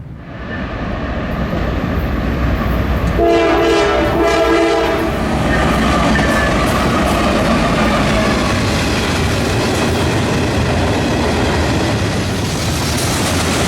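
Norfolk Southern freight train on the Chicago Line passes close by, sounding a loud multi-tone horn blast early on, followed by sustained rumbling and clattering of rail cars.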